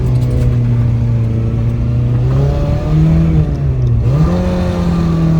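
A Suzuki Samurai with a swapped 1.6L 16-valve engine accelerates through the gears, the engine note climbing, dropping at a shift, then rising again, close and loud.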